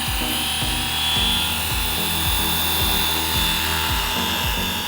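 A Fly Wing FW450L V3 large RC helicopter taking off outdoors in snow, its rotor and motor making a loud, steady whine with a rhythmic low-pitched blade thump, close by.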